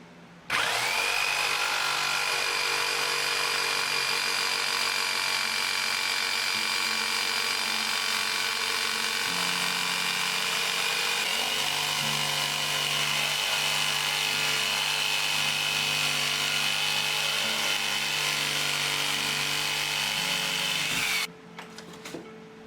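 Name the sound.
power sanding a wooden fishing lure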